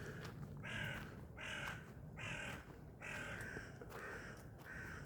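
Crows caw repeatedly in a steady series of harsh calls, about five bursts spaced evenly, moderately close against a faint background hum.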